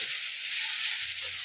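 Onion and garlic frying in a pan for chowmein give a steady, close sizzle with a constant bright hiss throughout and no talking.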